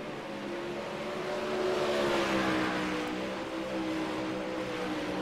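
A 360 sprint car engine at Williams Grove dirt track in the iRacing video game, a loud, sustained drone whose pitch rises and falls as the car accelerates and lifts through the turns.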